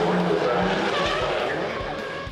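A drift car at a D1NZ drifting round at ASB Baypark Stadium, Tauranga, screams through a sustained skid with loud tyre squeal and engine roar, close and continuous, fading slightly at the end.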